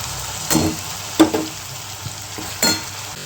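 Potatoes go into spice paste frying in oil: a low sizzle broken by a few distinct clatters and stirring scrapes, close and intermittent, with no talking.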